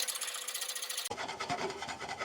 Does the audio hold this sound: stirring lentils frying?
yes